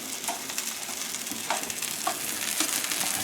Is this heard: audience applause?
no